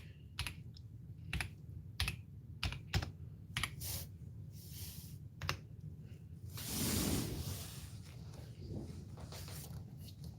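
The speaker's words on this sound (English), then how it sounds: "I'm typing in my social security number" Keys clack on a computer keyboard in irregular quiet bursts, with some louder taps and a brief rustle partway through, fairly close and without talk.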